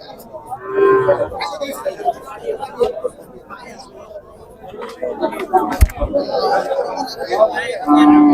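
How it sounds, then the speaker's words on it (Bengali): Cattle moo loudly and repeatedly at a busy cow market in Noakhali, with low drawn-out calls rising over a steady hubbub of nearby chatter and crowd noise. "প্রচুর পরিমাণে গরু আজকে অনেক গরু উঠছে প্রচুর পরিমাণে গরু উঠছে"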